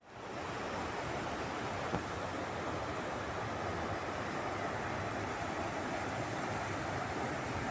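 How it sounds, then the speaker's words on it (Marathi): A hillside stream in a Konkan village during the rainy season rushes in a steady, dense, hissing roar that starts abruptly and holds even and loud throughout, with no voices. "पाणी खळखळ वाचते तुम्हाला असा आवाज असेल बॅकग्राऊंडला"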